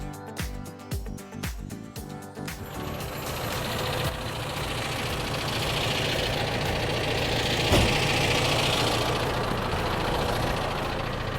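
A tractor steering itself on autopilot runs in a field, its engine giving a steady mid-pitched drone with vibration after a few irregular knocks and clatters at the start, a sharp click midway.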